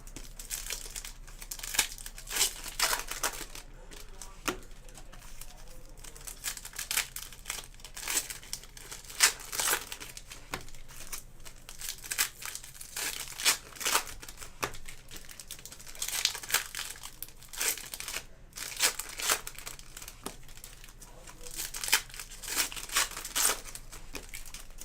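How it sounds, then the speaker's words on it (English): Foil baseball card packs are torn open and crinkled up close. Bursts of crackling and ripping repeat irregularly throughout with no voices. "These packs are kind of ucky to get open."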